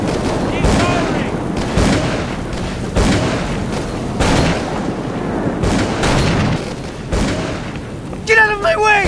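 Repeated gunfire bursts in the horror video game Call of Cthulhu: Dark Corners of the Earth, loud and close, with booming shots recurring every second or so over dense game sound and voices.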